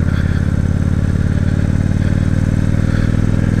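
A fully laden motorcycle with a mechanical fault runs steadily and loudly close by on the Tail of the Dragon mountain road at Deal's Gap, its engine droning with a constant rhythmic pulse and no speech.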